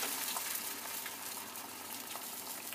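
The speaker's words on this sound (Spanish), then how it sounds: "Cuando la sartén está caliente, pon los huevos en la sartén." Eggs fry in a hot pan on a stove, giving a dense, steady sizzle and crackle that stays loud and even throughout, with no talk.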